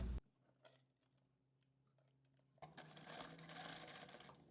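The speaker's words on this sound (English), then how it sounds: "Now we'll be sewing on this triangle mark." A sewing machine stitches fabric along a triangle mark. A brief knock comes first, then quiet handling, and then a loud, steady motor-driven stitching run that lasts to the end.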